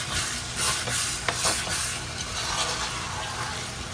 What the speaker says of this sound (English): as you can see, this is boiling and cooking and cooking and cooking.